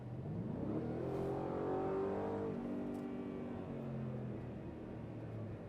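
A 2024 Ford Raptor R pickup with a V8 engine accelerates hard. The loud engine roar climbs steadily in pitch through the gears for several seconds, heard from inside the cab with no talking.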